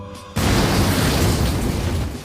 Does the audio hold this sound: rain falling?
no